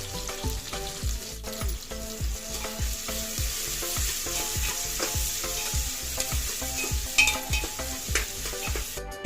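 Onions fry with salt and mustard seeds in a pan for kuska biryani, with a steady close sizzle and a regular rhythm of stirring strokes scraping the pan roughly every half second. No one speaks.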